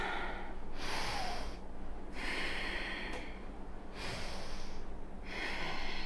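Slow, deep breathing during a yoga pose, with long audible inhales and exhales through the nose repeating in an even rhythm, close and clear without talk.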